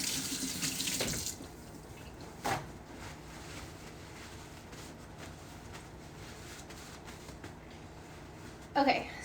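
Water from a kitchen tap splashes into a sink as hands sticky from protein bar mixture are washed, with a louder gush at the start, quieter running water in between, and another burst at the end.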